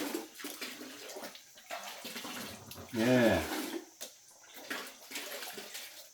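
Water is poured into a container to make sugar syrup for feeding native bees, a swelling gush near the middle set against steady background noise, with someone talking around it.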